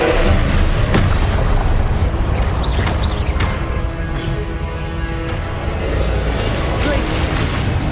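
A Confringo explosive spell detonates in Hogwarts Legacy, a loud, sustained rumbling blast with crackling debris that holds steady for several seconds.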